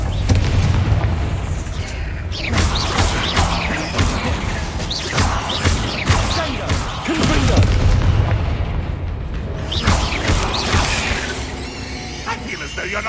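Repeated booming explosions from the Bombarda blast spell in Hogwarts Legacy, loud and close, a dense run of heavy bursts with game voices talking over them.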